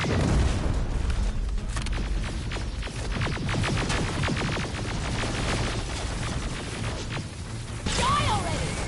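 Grenade blasts in the Terminator Resistance shooter game, a run of heavy booms and crashing impacts over rumbling combat noise, loud and close, with a sharp flurry near the end.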